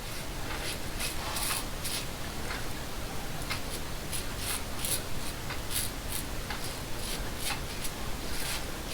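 Gemini open-comb razor fitted with a Nacet blade shaving through soap lather, a dense, continuous close-up scraping and rasping with repeated crisp stroke-like bursts, steady and fairly loud throughout with no talking.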